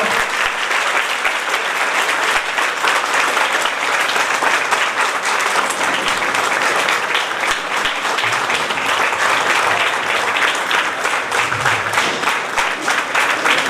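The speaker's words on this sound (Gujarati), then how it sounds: "તાળીઓનો ગલગલાટ ચાલુ રાખજો." Sustained, dense applause fills the hall at a devotional kirtan gathering, many hands clapping steadily and loudly for the whole stretch with little voice above it.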